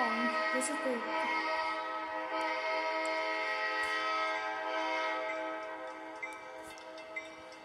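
An Amtrak California locomotive horn in the Roblox video game sounds as a long, sustained multi-tone chord holding steady for several seconds, loud and close, fading slightly toward the end with a couple of small ticks.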